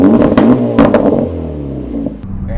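A loud, close Acura Integra Type S with a Milltek catback exhaust revs hard. Several sharp, gunshot-like pops crack out over the engine roar.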